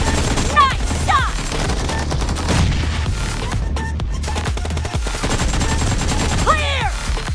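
Gunfire from the video game BGMI rattles in rapid, dense bursts, mixed with machine-gun fire and occasional booms, loud and continuous, with game voices and chatter heard underneath.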